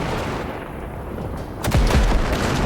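Gunfire in the video game Cyberpunk 2077 as wrecks are blasted: a quiet stretch gives way to a loud, heavy burst of shots and booming impacts that carries on to the end.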